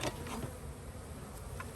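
Honey bees buzz around hive boxes during a late-season swarm check, a continuous close hum with light handling knocks near the end.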